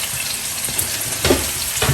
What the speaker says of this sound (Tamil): கத்திரிக்காய் வதங்கிட்டே இருக்கு